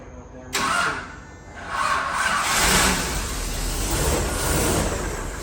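Classic Bentley S3 cranked and fired up in a yard, the starter whirring briefly before the engine catches and settles into a smooth, rising idle with a couple of gentle revs.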